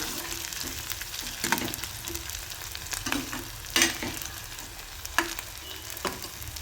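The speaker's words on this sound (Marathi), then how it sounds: "हे 2 मिनिटं चांगलं परतून घ्यायचं आहे याचा कच्चापणा जाईपर्यंत" Steady frying sizzle in a pan with scattered scraping clicks of a spatula stirring, close by and moderately loud, no talking.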